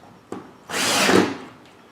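A cordless drill with its clutch set to 16 spins up and runs steadily for about half a second driving a screw, whining then bogging slightly before stopping, close by, after a brief click.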